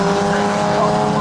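A pack of classic hatchback race cars roars past at Snetterton circuit, a loud, continuous blend of revving engines close by with a faint tyre squeal.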